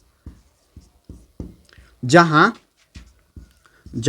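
Chalk or marker writing on a board during a maths lesson on irrational numbers, short scratchy taps and strokes in quick succession, close and moderately loud, with a voice speaking briefly in the middle and at the end.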